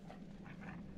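A dog in the video game Divinity Original Sin gives a short, faint whining, snuffling vocalization over a low background hum, brief and quiet with no talk.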